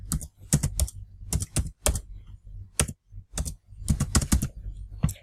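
Typing on a PC computer keyboard while entering a Roblox promo code, with short bursts of crisp, close key clicks separated by brief pauses and no talking.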